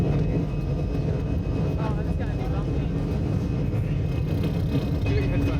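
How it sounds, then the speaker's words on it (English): Airplane engine roar during a rocky takeoff on a sparsely filled passenger flight, a steady loud low rumble filling the cabin throughout with a faint voice murmuring underneath. "Takeoff was pretty rocky."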